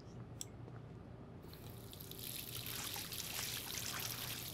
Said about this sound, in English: Oh, faucet, there we go.